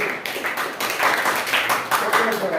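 Children in a classroom clap loudly together, a dense, steady burst of applause that swells and pulses for a couple of seconds, with nearby voices mixed in.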